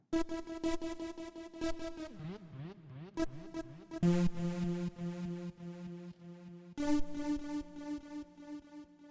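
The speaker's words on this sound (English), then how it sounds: "Gigantic filter sweep, 380 oscillators, reverb, delay." Bright synthesizer tones from 380 stacked oscillators with a filter sweep, wobbling pitch bends and shifting notes, washed in reverb and echoing delay, loud and continuous with no voices.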